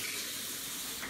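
Water runs steadily from a tap in a newly built house, a continuous close hiss and gush with good pressure.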